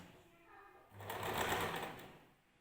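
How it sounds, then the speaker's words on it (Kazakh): A sewing machine runs a steady stitching burst along a long dress seam, about a centimetre from the edge, rising to a loud whir then easing off; a quiet voice is faintly present underneath. "1 сантиметр тігізге қалдырып тігіп шығамыз."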